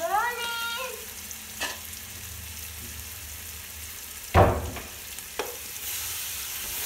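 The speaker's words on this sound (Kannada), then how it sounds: "ಆ ಮಸಾಲೆ ಎಲ್ಲ ಚೆನ್ನಾಗೆ ಫ್ರೈ ಆಗಲಿ, ರಾ ಸ್ಮೆಲ್ ಎಲ್ಲ ಹೋಗಲಿ." Ground masala for country chicken biryani fries in a pan with a soft, continuous sizzle, broken by a few louder stirring scrapes and clatters.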